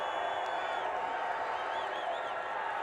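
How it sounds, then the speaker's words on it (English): A stadium crowd at a Tulsa college football game roars during a timeout, a broad steady wash of cheering and shouting with a few whoops, loud and continuous throughout. "This crowd is jumping here in Tulsa"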